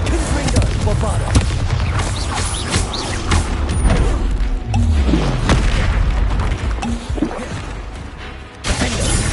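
Spell explosions in Hogwarts Legacy combat: a rapid, loud barrage of booms, bursts and shattering impacts piling over one another with continuous rumbling and clattering throughout.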